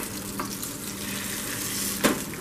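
Fresh tuna steak sizzles steadily in a hot pan just after its first flip, a continuous frying hiss with a brief spatter flare near the end.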